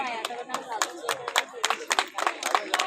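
An audience at a rural development office inauguration ceremony claps in uneven, scattered beats, with a voice speaking over the applause.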